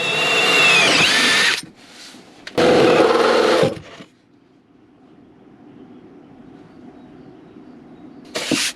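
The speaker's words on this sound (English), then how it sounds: "now they're getting the hole saws out" Loud whirring bursts of a well-used hole saw cutting through the floor of a Fiat Ducato camper van, two strong drilling runs separated by pauses, followed by a lower idle hum and a short final burst.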